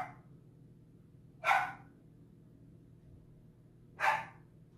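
A dog gives two sharp, separate barks a couple of seconds apart, fairly close, over a low indoor hum.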